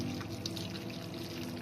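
Boiling water poured from a pot onto ground cardamom, nutmeg and bay leaf spices, a steady close splashing and gurgling pour running continuously with no voices.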